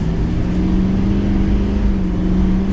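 A 2022 Chevrolet Silverado 3500HD High Country heavy-duty pickup with over 900 pound-feet of torque accelerating under part throttle, its engine a loud, steady, close droning rumble that carries through without a break.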